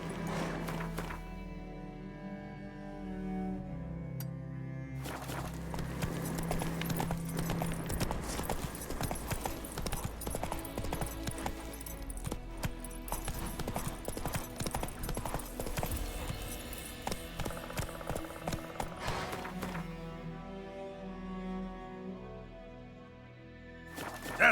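Roach the horse gallops in The Witcher 3, hooves pounding in a fast, steady rhythm under music for most of the stretch, loud and close.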